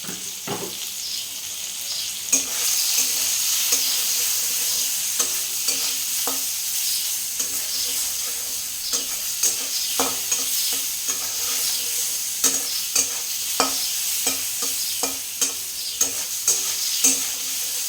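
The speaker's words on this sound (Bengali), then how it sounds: "এইভাবে দু মিনিট নাড়াচাড়া করে নেব" Mourola fish sizzling in a pan with salt and turmeric, stirred steadily over a constant frying hiss, with repeated scraping clicks from the utensil recurring throughout.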